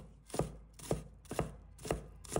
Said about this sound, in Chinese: 1把葱白，把它切成小粒。